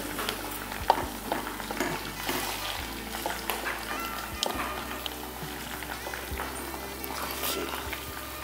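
Chicken pieces fry in a pan with soy sauce and pepper for a pineapple chicken dish, giving a constant sizzle broken by scraping stirs and clinks of a utensil.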